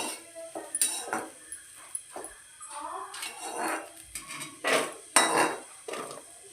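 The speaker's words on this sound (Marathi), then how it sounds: "गवार भाजून झालेले आता आपण एका प्लेटमध्ये काढून घेऊया।" Roasted cluster beans scraped from a hot kadai onto a plate, with a run of close metallic scrapes, clinks and clatters in uneven bursts; faint voices can be heard in the background.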